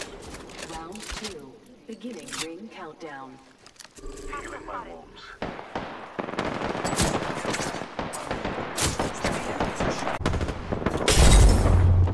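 Rapid automatic gunfire and weapon bursts in the Apex Legends battle royale game, loud repeated shots over the later half, with talk and game sounds earlier.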